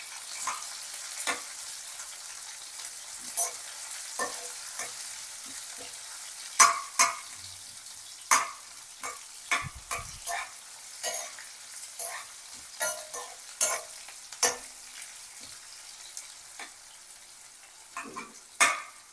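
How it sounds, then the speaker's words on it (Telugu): Onion frying in a pan for a domdakaya (ivy gourd) fry, a steady soft sizzle with repeated sharp scraping clicks of a spatula stirring against the pan, close and clear with no talk. "ఈ ఆనియన్ కూడా నేను బాగా ఫ్రై చేసుకుంటున్నాను అన్నమాట."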